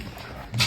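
A single short dog bark sounds right at the end, fairly close, after a moment of quiet room noise.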